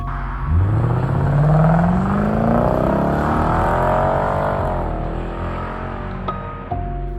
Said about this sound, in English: The V8 with an X-pipe sounds like how a British V8 should.